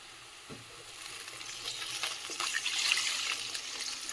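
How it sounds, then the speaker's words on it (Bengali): Water goes into onions frying in oil and ghee in a pan, and the hiss and sizzle build steadily louder over a few seconds, with a light clatter at the start and no voices. "চলো এর মধ্যে এবারে আমি জল দিয়ে দেবো।"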